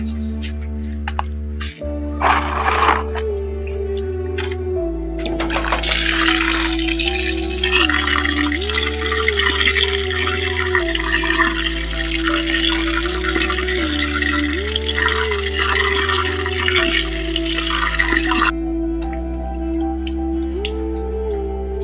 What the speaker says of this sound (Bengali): এগুলো এখন আমি ধুয়ে নেব।